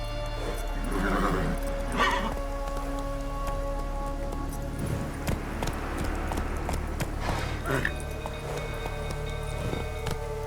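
Horse hooves in The Witcher 3 clip-clop at a gallop over steady ambient game sound, with bursts of louder hoof and gear noise and no talking.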